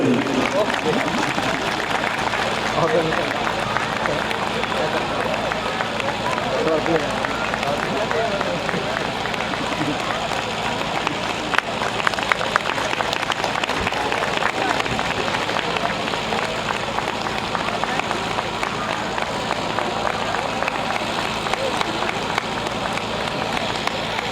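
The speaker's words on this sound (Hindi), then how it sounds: "हमारे मैनेजर साहब और उनकी वाइफ जोरदार तालियां।" Loud, sustained clapping from a crowd at a church Christmas celebration honouring the manager and his wife, a dense continuous patter lasting the whole stretch, with voices and a speaker over the top.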